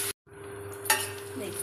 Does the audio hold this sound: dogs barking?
no